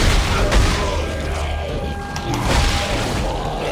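A weapon's secondary fire in Dead Space 3 on PS3 lands as a heavy booming blast, followed by a dense, rumbling mechanical roar that fills the mix and swells again partway through.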